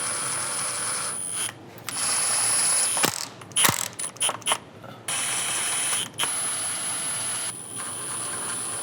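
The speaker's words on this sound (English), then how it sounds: "Now I'm using an impact gun, but it's on the very lowest setting" An impact gun on its lowest setting runs bolts onto the transmission pan of a 2004 Chevy Silverado 4L60e, giving loud sustained whirring bursts broken by short gaps and a few sharp clicks.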